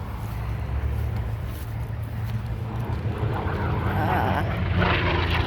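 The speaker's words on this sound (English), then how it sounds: "the little prop is still flying over. Noisy thing, not very big." A small propeller plane drones overhead at an airshow in Abbotsford, Canada, a steady low engine hum that swells slightly louder toward the end.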